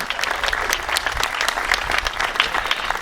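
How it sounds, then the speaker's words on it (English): Steady round of applause from an audience at a memorial service, dense clapping close and moderately loud throughout without pause or talk. "So if you give a quick round of applause to Brian and Tom for that love."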